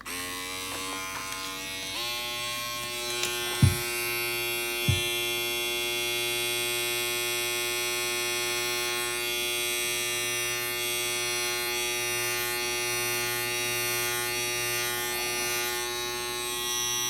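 An inexpensive electric beard trimmer fitted with its full-size blade runs with a steady, close buzzing hum, shifting slightly in pitch as it starts up, with a couple of brief knocks early on and no talking.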